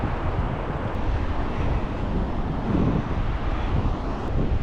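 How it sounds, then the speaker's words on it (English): Steady wind blows at a Galveston beach near a campground, a constant broadband rush with microphone buffeting that stays fairly loud and unbroken throughout, with no voices. "As you can hear, it still sounds a little windy, but it's not that bad."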